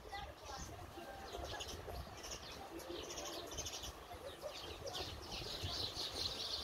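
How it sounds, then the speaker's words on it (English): Small sparrows chirp steadily at an outdoor resort on Sir Bani Yas Island, Abu Dhabi, their quick high tweets scattered across the scene over a low, faint murmur of background voices. "Small ones, sparrows."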